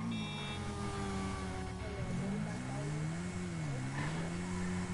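A motorbike engine in a roleplay video game revs up and down in wavering pitch sweeps, with a steady tonal hum underneath, fairly quiet and continuous.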